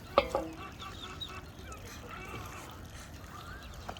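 Ducks at the water's edge on a farm, being fed, give a few near quacks and honks among other fowl, with a sharp call at the start and softer calls after.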